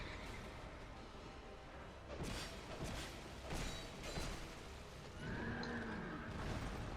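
A horse neighs in Dark Souls II: Scholar of the First Sin, a couple of whinnies rising over a low game ambience alongside thudding impacts and combat noise, no talking.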